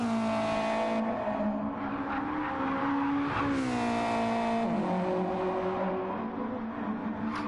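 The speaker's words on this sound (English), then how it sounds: "Can you hear the cars as well," Race cars in Gran Turismo 7 during a league race, several engines droning and revving with rising and falling pitch as cars shift gears and pass, loud and continuous with no talk.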